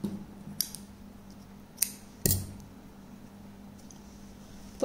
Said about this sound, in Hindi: यहाँ पर हम धागा काट देंगे